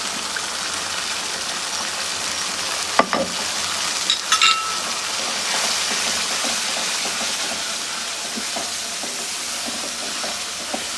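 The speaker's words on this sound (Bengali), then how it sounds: "একটু ঢেকে দিয়ে কিছুক্ষণ মশলাটা কষিয়ে নেব" Ground spice masala of turmeric, coriander and chili powders frying in oil for a spicy Bengali chicken curry, a steady close sizzle with a couple of sharp clinks from stirring partway through.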